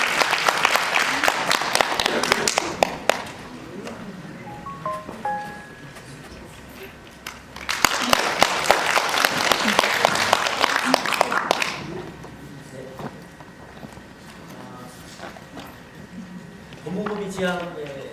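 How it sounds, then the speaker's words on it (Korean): An audience claps in bursts at a consumer-rights forum, with two sustained rounds of applause separated by quieter stretches, and a voice speaking between them. "여러분 박수로 환영해 주시기 바랍니다."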